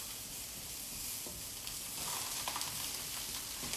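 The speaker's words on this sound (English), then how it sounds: "Got that nice sizzle and crackle." Diced Spam sizzles and crackles steadily in a hot pan, a dense frying hiss with scattered pops, close and fairly loud, no voices.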